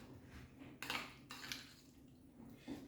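Chopped tomatoes stirred in a bowl for pan con tomate, giving a few brief clinks and wet scrapes of a utensil against the dish at close range, spaced irregularly over a quiet kitchen background.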